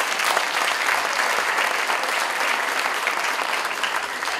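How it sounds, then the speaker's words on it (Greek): An audience at a Greek cultural association's mandolin-music evening claps in a dense, steady round of applause, close and even throughout the short stretch. "Τώρα κι ένα χειροκρότημα θέλω."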